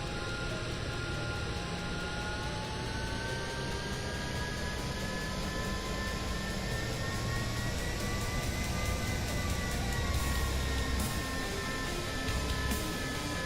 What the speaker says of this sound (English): we gotta carrier land this thing